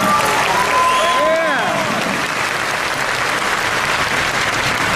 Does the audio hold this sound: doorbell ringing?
no